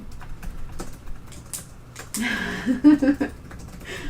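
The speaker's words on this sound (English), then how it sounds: "Selena, maybe type, just so he knows it's his turn" Quick, light clicks of someone typing on a computer keyboard tap along steadily, close and fairly quiet, with a louder burst of other sound partway through.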